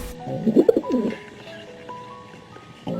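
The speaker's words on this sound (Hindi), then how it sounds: "वो कबूतर गुटरगू कर रहे थे।" Pigeons coo on a rooftop: a short run of soft, throaty calls rises close by in the first second, then fades to quiet room tone.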